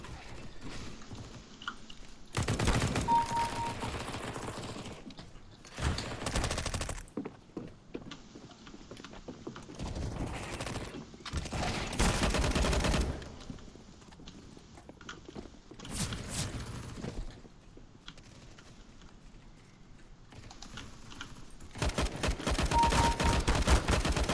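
Gunfire in the video game CS:GO, dense bursts of rapid shots and automatic fire in several loud clusters separated by quieter gaps, with some isolated single reports.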